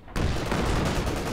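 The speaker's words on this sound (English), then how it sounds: "testing the revised Pershing against a Fox Grenadier squad long range here" A revised Pershing tank in a strategy video game fires a high-velocity armor-piercing shot at a Fox Grenadier squad at long range, one sharp loud blast breaking in after a brief quiet and rolling on as a dense sustained rumble.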